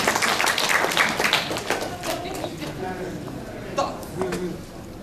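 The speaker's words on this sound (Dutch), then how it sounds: "Ja, applaus." An audience at the Deaf Sport Awards 2011 ceremony bursts into clapping, loud and dense at first, then thinning out while a voice talks over it.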